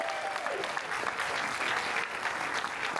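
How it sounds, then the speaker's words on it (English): Audience at a film screening Q&A clapping in a continuous burst of dense applause, with a brief voice or cheer near the start. "one more round of applause for Sammy for putting this together today"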